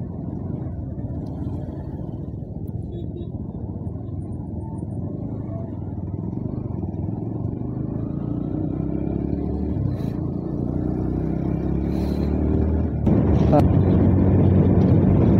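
Road traffic on the road toward the airport makes a low engine rumble that builds steadily, with vehicles passing close by and a few higher whines near the end. A voice speaks over the noise.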